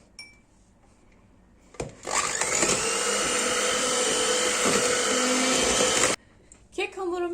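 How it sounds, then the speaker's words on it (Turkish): An electric mixer whipping eggs and sugar whirs loudly and steadily for several seconds, starting abruptly and cutting off, with faint clinks of the bowl around it. "Mikserle iyice çırpıyorum."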